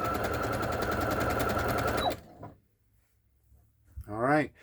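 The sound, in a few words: Brother CS6000i sewing machine stitching fabric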